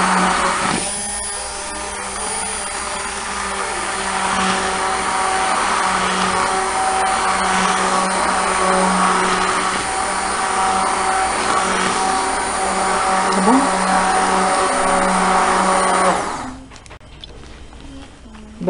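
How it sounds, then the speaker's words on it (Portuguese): An electric hand mixer beating a batter for homemade bread, a loud, steady motor whine with a churning texture that runs for about sixteen seconds, then cuts off and leaves quiet room sound. "Eu vou usar o meu mix aqui para bater"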